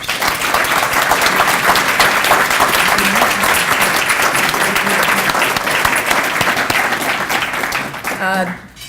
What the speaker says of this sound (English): I will now ask you to join me in a round of applause to thank Catherine very much